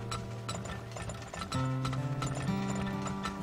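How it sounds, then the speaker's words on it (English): Horses clip-clop with steady, rapid hoofbeats in a video game, layered over droning mechanical game tones, moderately faint with no talk. "Come on, horses, just go faster."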